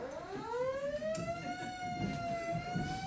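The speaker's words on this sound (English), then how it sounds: "do that and turn the siren wide open" During a live radio play, a siren sound effect wails in one long rising and falling tone, steady and moderately loud, with faint stage noise underneath and no talk.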